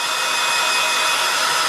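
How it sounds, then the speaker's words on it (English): A hairdryer roars steadily and close while drying paint on a drawing of a baby chick for an Easter card, a continuous airy whoosh without any speech. "with my trusty hairdryer"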